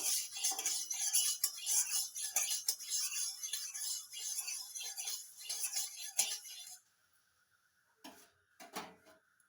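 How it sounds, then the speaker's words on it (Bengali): A metal spoon scrapes and clinks around a hot iron kadai, spreading oil over its sides, in a busy run of scraping taps for several seconds before stopping, then a few faint clinks. "কড়ার গায়ে ভালো করে লাগিয়ে নেব"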